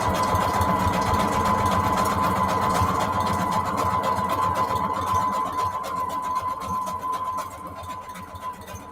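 Sewing machine zigzag-stitching lace onto a junk journal page, a close, steady mechanical whirr with fast rhythmic needle chatter that eases off slightly toward the end.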